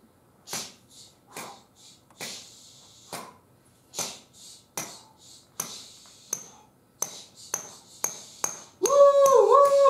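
A dozen or so sharp hammer-like taps in a steady beat, picking up pace toward the end, then a loud rising whistle-like tone.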